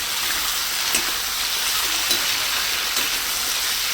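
Ginger and green chillies fry in a pan with a steady, close hiss of sizzling oil, a few faint stirring taps breaking through the constant crackle.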